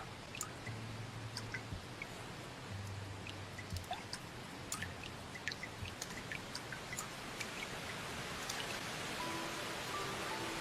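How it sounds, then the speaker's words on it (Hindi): Steady rain falls as a broad, continuous hiss, with scattered drips and patters standing out here and there, moderately quiet and even in level throughout, with no voices. "बारिश हो रही है"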